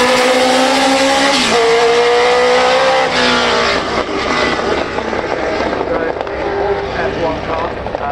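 A Koenigsegg, a tribute to the first CC85, roars past at Goodwood Festival of Speed, its loud engine note climbing and shifting as it passes, with a commentator's voice talking over it.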